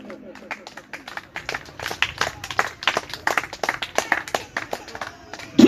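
Church congregation clapping to acclaim the Lord, with rapid scattered hand claps building in intensity under a voice and a sharp burst at the very end.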